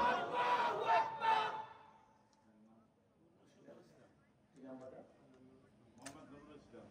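A crowd at an Islamic sermon gathering roaring Allahu Akbar in unison after a takbir call: a loud, brief collective shout that fades, followed by quieter speech from a single voice.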